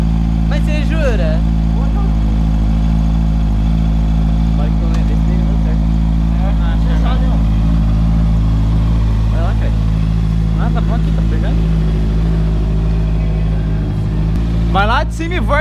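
Honda CB 650 Hornet motorcycle engine running steadily with a low idle rumble during a rear brake test, heard throughout under conversation between people nearby.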